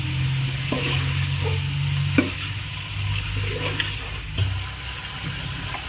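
Steady frying sizzle of farm chicken pieces in a pan, with a few scattered clicks and scrapes of stirring throughout; no talking.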